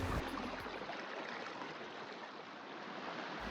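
Water rushing along North Matilija Creek in the Los Padres Mountains, a steady broadband flow heard up close with no voices, holding an even wash from start to finish.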